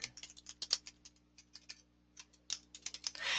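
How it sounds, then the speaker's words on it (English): Soft, quick keystrokes on a computer keyboard in uneven bursts with short pauses, quiet and close, ending in a brief rush of noise, with no voices. "If I could type, that would be better, right?"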